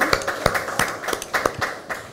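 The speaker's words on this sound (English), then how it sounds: "Let's keep clapping, please." Audience clapping at an event for the official CHAN 2020 song, a loose group of claps falling into a rough repeating rhythm, moderately close in a reverberant space.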